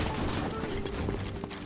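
Fortnite gunfire from a controller stuck on auto fire, a dense continuous burst of rapid shots, loud and close throughout.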